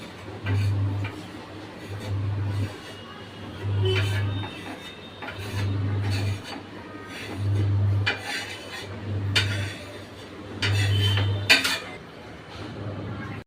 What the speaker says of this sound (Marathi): आता मी हे बाउलमध्ये काढून घेते.